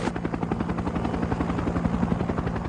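A military helicopter from Vietnam War footage, its rotor beating in a fast, even thumping pulse over a loud engine whine, close and continuous throughout.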